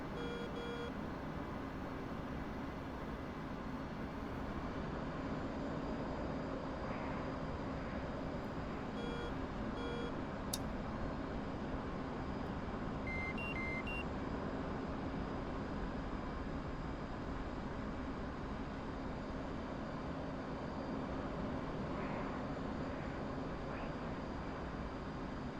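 Steady engine roar inside a combat aircraft cockpit in the DCS flight sim, with a few short electronic warning beeps sounding intermittently over the constant drone.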